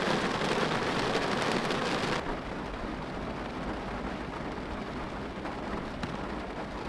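Rain falls steadily in Chicago during an outdoor barbecue cook. A dense, loud hiss sounds as if heard from inside a car, then softens suddenly after about two seconds while the rainfall continues.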